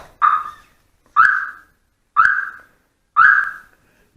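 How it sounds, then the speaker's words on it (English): Loud, close electronic chirps from a triggered smart car security alarm sound four times in an even rhythm, each a short rising tone followed by silence. "You can see the alarm has been triggered."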